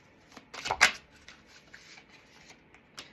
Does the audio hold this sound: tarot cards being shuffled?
yes